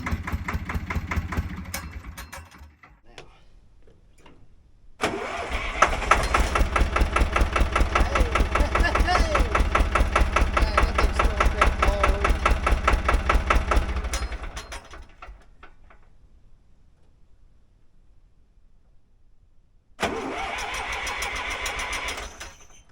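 A tractor engine with a formerly seized alternator now freed cranks and catches, running loud and rough with rapid regular firing pulses for about ten seconds, then dropping away before it cranks up again near the end.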